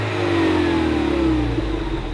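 A new Ford Mustang with a non-V8, 301-horsepower engine runs close by with a steady mid-pitched drone whose tone drifts slightly, heard alone for about two seconds.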